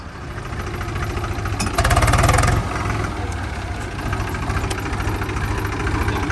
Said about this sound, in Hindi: हाँ चल रहा कि ट्रैक्टर ही नहीं बढ़ रहा आगे,